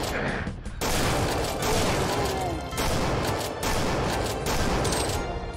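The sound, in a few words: weapon fire in Roblox Doom clone video game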